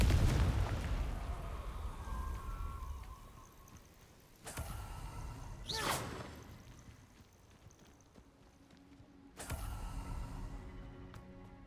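In the Hogwarts Legacy video game, Confringo blasting spells go off as a series of booming blasts with rumbling decay, separated by quieter spells and ambient game sound.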